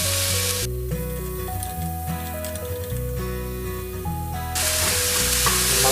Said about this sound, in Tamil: சிக்கனை இதோட சேர்த்து போட்டுருங்க.